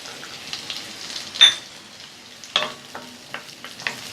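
Small onions and garlic sauté in a pan for garlic chutney, a quiet steady sizzle broken by a few sharp scraping and tapping stirs from a spatula, with no talking.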